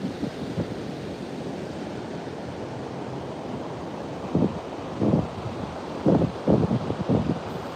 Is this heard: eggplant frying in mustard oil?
no